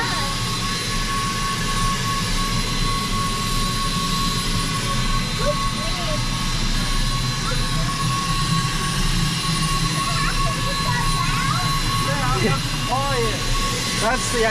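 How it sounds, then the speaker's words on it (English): An aircraft APU, a small jet engine, whines continuously with a steady high-pitched tone over a broad roar, while faint people talk nearby. "That's the APU. It's a little jet engine."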